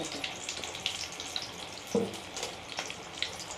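Mirchi bajji, battered chillies, frying in hot oil at home, a faint continuous sizzle with small crackles and a few light pops, heard at low level without talk.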